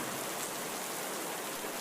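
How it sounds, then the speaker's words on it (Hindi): Heavy storm rain as a cartoon sound effect, a dense, steady hiss of pouring water that fills the short moment evenly without any voices. "लेकिन हवा और बारिश इतनी तेजी से हो रही थी"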